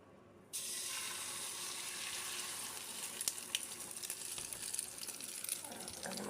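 An omelette poured into hot oil in a pan, a sudden bright sizzle bursting in after a quiet start and then crackling steadily, with occasional spits and pops.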